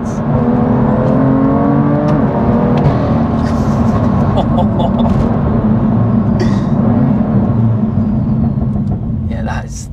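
A tuned 625 BHP BMW M2 with an N55 engine accelerates hard and spins its tyres, a loud, steady engine roar with whirring that fills the cabin, while people talk over it throughout.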